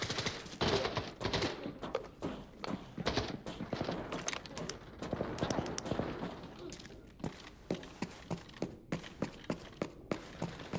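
Rapid automatic gunfire in the online shooter Arena Breakout Infinite, bursts and single shots cracking in quick succession with footsteps, ending in a steady run of evenly spaced shots; voices talk over parts of it.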